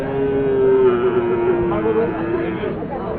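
Cattle low in a long, drawn-out moo at the Sonamukhi cattle market in Kazipur, Sirajganj. The call sounds fairly near, with a crowd murmuring and people talking around it.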